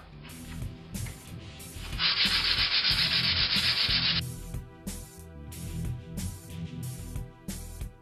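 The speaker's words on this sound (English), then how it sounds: "Right, so I've sanded it down. I went through a couple of grades of sandpaper" Sandpaper scrapes over a cast hand lifecast in a steady series of short, rhythmic rubbing strokes. The middle of the clip carries a longer, louder, sustained pass.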